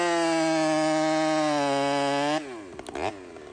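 A chainsaw with a working muffler and a chain that needs sharpening roars loudly at steady high revs, the pitch gradually sinking before the throttle drops sharply to a rougher, lower idle with a few knocks near the end.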